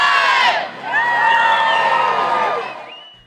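Cheering crowd at a rainy, windy Making Strides Against Breast Cancer charity walk in Lincoln, a loud burst of whoops and shouts that swells, holds, then fades out.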